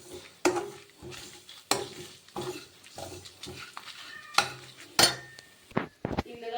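Whole dried chillies, coriander seeds and curry leaves are roasted in a pan with coconut, marked by repeated sharp scrapes and knocks of a spoon against the metal over a soft sizzle.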